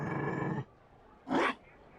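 A Mabari war dog in the fantasy video game Dragon Age: Inquisition lets out a throaty growl, followed by a short pause and then a second, brighter snarling burst, close and loud with no talk.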